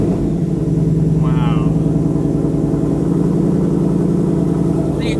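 A Shelby Super Snake with a Borla exhaust idles steadily with a deep, rumbling burble throughout. A person speaks briefly over the engine.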